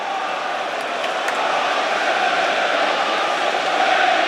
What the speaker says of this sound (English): It's fired up the Arsenal supporters. The volume has increased.